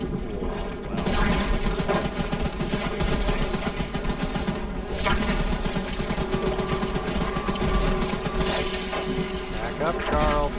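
Rapid gunfire from a weapon in the horror train game Choo Choo Charles, a dense, continuous loud burst of shots with mechanical clatter that runs the whole stretch, with a person talking over it.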